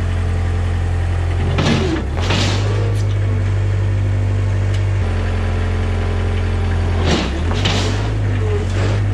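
A skid steer's engine idles loudly and steadily up close while it lowers a VW rail buggy with long-travel suspension and 30-inch tires, with a drone that dips and surges briefly a couple of times.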